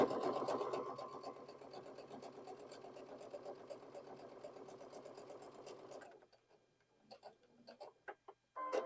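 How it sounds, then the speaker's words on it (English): A home sewing machine stitches steadily through a quilt block of fabric pieces, with a rapid, even mechanical whir and needle rhythm that runs for about six seconds, then stops and gives way to a few faint handling taps. "And just sew right off that block."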